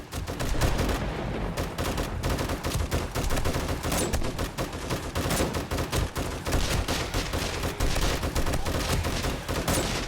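Rapid bursts of gunfire from a weapon in the zombie survival game 7 Days to Die, dense and continuous across the stretch with heavy low-end thuds and no pauses.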